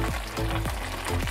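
Romanian sarmale cabbage rolls cooking in a pot, giving a steady close bubbling sizzle with repeated soft pops and stirring scrapes, with no talk.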